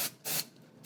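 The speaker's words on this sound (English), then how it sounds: "Spray again." Apple Garde protector misted from an aerosol can onto Louis Vuitton Vachetta leather: two short, close hissing bursts of spray, the second longer, with a quiet pause between them.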